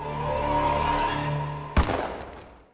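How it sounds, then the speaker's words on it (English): A single gunshot in the video game The Sexy Brutale cracks sharply out of a sustained musical drone, then its echo tails off over the following second. "Remember the gunshot from the tutorial?"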